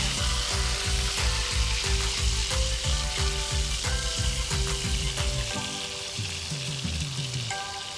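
Herb chicken fries in a pan with a loud, constant sizzle and crackling spatter, heard close up and alone, easing slightly in the final seconds.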